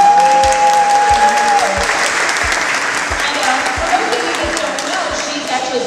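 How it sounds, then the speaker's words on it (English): Audience applause for a chef at a TV cooking event, a dense steady wash of clapping that holds loud throughout, with a brief whistle-like tone near the start and faint voices mixed in. "Please give her a warm applause."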